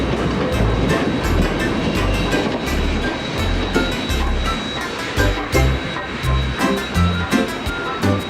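A train travelling on rails, rumbling steadily with rhythmic clatter of wheels over track joints and a faint high whine, heard close and continuous.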